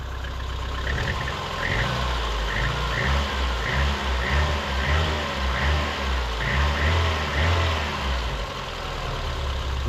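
A repaired car engine runs close by with a steady idle broken by quick revs that rise and drop back down promptly, a loud, even engine sound with a rhythmic pulse and no talking.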